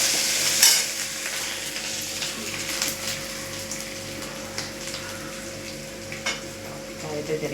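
Crushed garlic, ginger and shallots frying in a pan over low heat, a crackling sizzle with a sharp clatter as they go in, then gentle stirring and spatter pops under an even hiss.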